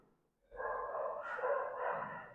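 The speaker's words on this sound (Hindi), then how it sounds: "कुत्ते भौंक रहे हैं भाई" Dogs bark outside on a hot day, a faint and distant stretch of continuous yapping that starts half a second in and runs to the end with nothing else over it.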